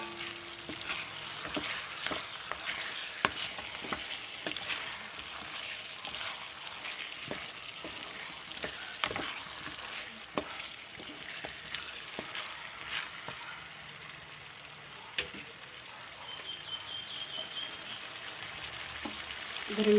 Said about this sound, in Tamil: கத்திரிக்காய் போட்டு நல்லா வதக்கலாம்.